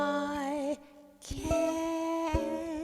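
A ukulele plays the slow ending of a song, with gently bending sustained notes, a pause, then fresh plucked strums ringing out close and fairly soft.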